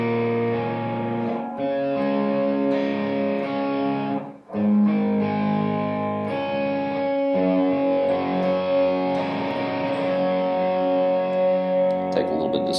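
Electric guitar with heavy distortion strumming sustained chords from the interlude of a song, loud and continuous, with one brief dip partway before resuming.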